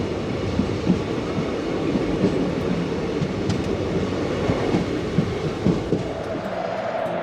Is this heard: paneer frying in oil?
no